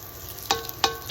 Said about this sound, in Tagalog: Gisahin lang natin ang ating luya